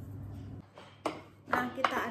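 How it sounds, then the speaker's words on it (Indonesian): A spoon stirs rabbit rica seasoned with oregano in a pan, giving a few sharp clinks and scrapes against the metal, with a voice talking nearby. "Nah, kita aduk sebentar"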